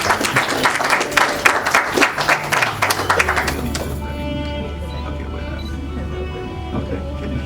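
Applause from wedding guests greeting the ring bearers at a ceremony, a burst of dense clapping that fades after a few seconds into a steady low hum with faint background voices.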